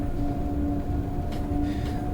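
An electric train in the Train Sim World 3 video game runs steadily, a loud low rumble with sustained motor whine tones and brief higher hissing bursts, no speech.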